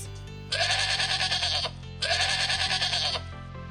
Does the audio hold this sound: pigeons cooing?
no